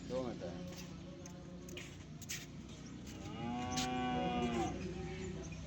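A Nili-Ravi water buffalo in Punjab, Pakistan moos with a long, drawn-out low call, preceded by a shorter bellow, with faint background voices and farmyard noise.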